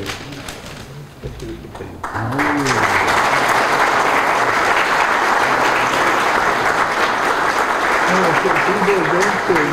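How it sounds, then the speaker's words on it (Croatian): An audience at a literary evening applauds the writer and academician Abdulah Sidran. A brief voice comes first, then full, loud, sustained clapping from a large crowd swells in and carries on steadily to the end. "Molim vas još jedan aplauz."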